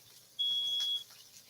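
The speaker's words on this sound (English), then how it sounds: "There goes the fire alarm," A smoke alarm goes off in a home kitchen during cooking, sounding one steady high-pitched tone for about half a second, loud over a quiet room.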